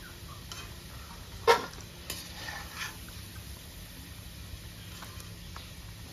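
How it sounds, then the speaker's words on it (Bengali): Fried potatoes being stirred in a frying pan and lifted out, heard as one sharp utensil clink against the pan and a few faint scrapes and ticks over a quiet, low kitchen background. "আলু ভাজা হয়ে গেছে, আলুগুলো নামিয়ে দিচ্ছি।"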